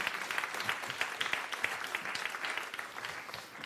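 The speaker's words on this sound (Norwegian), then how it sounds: "så får du en liten applaus" Small round of applause from a lunchtime seminar audience, a brief, moderate patter of clapping hands that tapers off quickly.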